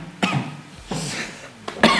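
Three sharp, close coughs in quick succession, each a short harsh burst with brief quiet gaps between, heard alone.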